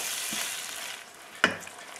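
Cream is stirred into a sizzling chicken and pea pan, giving a steady soft frying hiss with a spoon scraping and a single sharper clack near the end, close and without talk.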